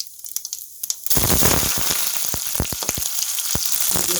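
Cumin seeds hit hot oil in a pan while cooking methi malai matar: a soft clink and light patter, then a sudden loud, steady sizzle with crackling pops running on alone to the end.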